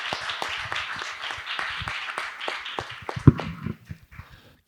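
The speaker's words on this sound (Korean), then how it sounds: "여러분들 나올 때 큰 박수로 우리 환영했으면 좋겠습니다" A church congregation at a Korean worship service applauding in welcome, moderate clapping that tapers off near the end with a sharp knock partway through.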